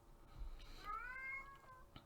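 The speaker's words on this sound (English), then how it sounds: "Listen to that. That's my cat." A pet house cat lets out a single drawn-out, rising-then-falling meow, faint and somewhat distant against a quiet, low background hum.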